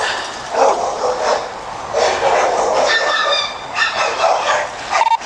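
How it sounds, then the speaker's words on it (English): Several dogs bark and yip in agitated bursts while mauling a body in a backyard, a steady run of overlapping barks and whimpers at mid distance with no talking. "the dogs are mauling the body"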